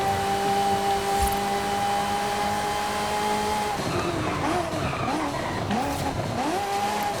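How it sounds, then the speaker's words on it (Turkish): A car in Forza Horizon 5 revving hard with steady engine tones that suddenly break into rapid rising and falling pitch sweeps as gears drop and climb, loud and continuous with a gritty, tire-like roar. "Abi vites düşürmeler, vites yükseltmeler."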